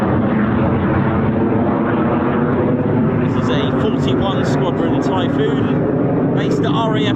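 A 41 Squadron RAF Eurofighter Typhoon jet makes a low approach at RAF Waddington, a loud, sustained roar filling the clip from start to end, with a voice talking over it partway through.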